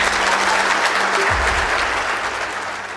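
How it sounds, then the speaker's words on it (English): A steady, full round of applause from an indoor audience, loud and continuous throughout, with a brief low thump partway through. "Let's give them all a round of applause."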